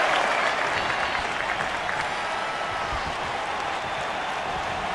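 Arena crowd in the wrestling video game WWE 2K25 during a match, a continuous roar of cheering and applause at moderate level throughout, with no clear words over it.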